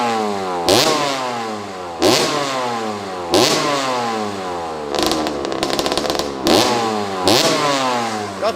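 A 1987 Honda CR80R two-stroke motorcycle revs hard in repeated bursts, each loud rise of engine pitch breaking off sharply before the next, with a rapid rattling flutter midway through.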